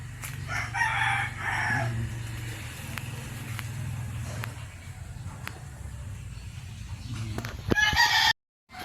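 Roosters crow and chickens cluck from a short distance away, repeated calls over a steady low hum of background noise.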